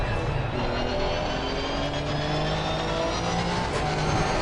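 Race car engine in Assetto Corsa Competizione at Silverstone, loud and close throughout, with a continuous droning roar and pitch rising through the gears.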